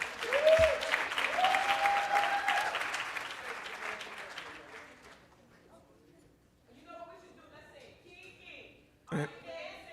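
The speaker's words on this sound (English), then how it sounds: "Let's give her a round of applause." Audience applause for a dancer at a women's leadership celebration conference, loud and sustained for about five seconds, then fading into scattered voices and a brief crowd burst near the end.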